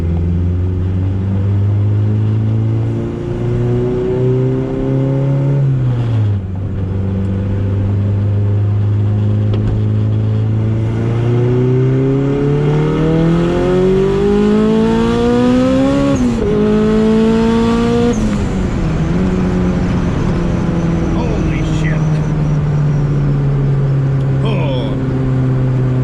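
A turbocharged Ford EF hatch pulls hard on a street, its loud engine note climbing steadily through the revs, dropping back at gear changes, then rising again, close and sustained for the whole stretch.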